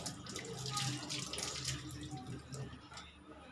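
A banana leaf is washed under running water, a steady close splashing flow of water over the leaf continuing throughout.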